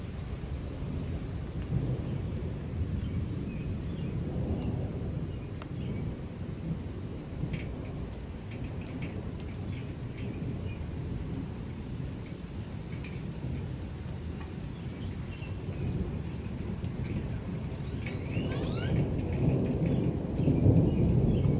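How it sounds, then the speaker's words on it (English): Severe thunderstorm in the outer bands of a storm with strong wind gusts: steady heavy rain hisses throughout while deep thunder rolls and rumbles continuously, building louder toward the end. "And there's still lightning and thunder."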